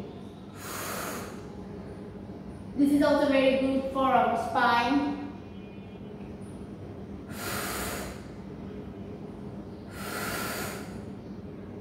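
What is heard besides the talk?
breathing during yoga stretch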